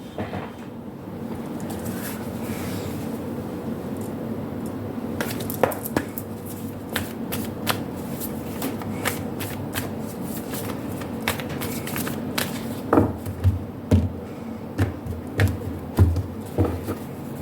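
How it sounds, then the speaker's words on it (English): Oracle cards are shuffled continuously in a quiet room, a soft papery riffle with sharper taps and clicks toward the end. "I'm going to shuffle the oracle cards as well."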